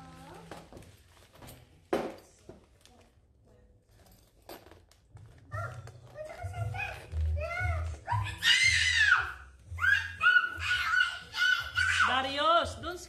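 A young boy screams in shrill, rising bursts indoors while his mother unpacks newborn baby items; adult talking runs underneath and the loud, piercing cries grow stronger toward the end.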